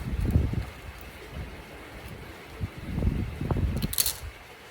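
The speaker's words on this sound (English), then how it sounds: "I am outside, so you may hear the wind" Gusts of wind outdoors buffet the microphone in low rumbling bursts, with a faint click or two near the end and no talk.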